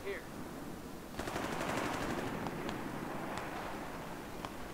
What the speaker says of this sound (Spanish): Se oyen tiros, pero no sé dónde.